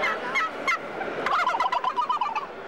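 Box call imitating a wild turkey gobble at a turkey calling event: a few sharp yelps, then a fast rolling burst of rattling gobble notes, loud and close with no talk.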